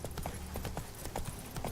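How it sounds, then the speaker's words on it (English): Hooves of Roach, the horse in The Witcher 3, clip-clop at a steady walk up a hill: faint, evenly spaced game footfalls with no one talking. "See if we can get Roach to walk up this hill."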